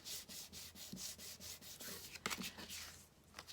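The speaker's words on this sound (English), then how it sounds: "I use the bone folder just to give it a good burnish on the score lines." A bone folder rubs back and forth over score lines on paper card, giving a quiet, rhythmic series of dry scraping strokes, close and soft with no talk.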